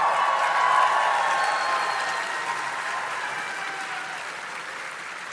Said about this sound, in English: That is far too much applause for what you're about to get